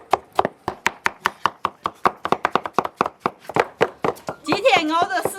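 A knife chopping tomatoes on a board for traditional rural tomato sauce, about two dozen quick, crisp, close strikes in an uneven rhythm, with a voice briefly joining near the end.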